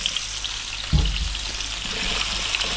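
Potato chunks dropped into a hot pan for an Indian dry fry, a brief thud followed by a steady, close hiss of frying that carries on evenly to the end.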